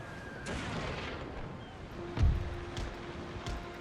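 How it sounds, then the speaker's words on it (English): Carronade cannons fire at a ship in a naval sailing video game, with a few sharp booming shots over a low background of sea and wind, one heavier blast standing out midway. "Carronade shot on the sails."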